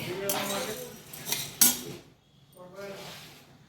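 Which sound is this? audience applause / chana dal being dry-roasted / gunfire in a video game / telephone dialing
chana dal being dry-roasted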